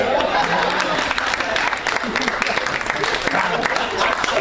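A comedy club audience claps during a stand-up set, a burst of scattered applause mixed with crowd noise and some talking, moderately loud throughout.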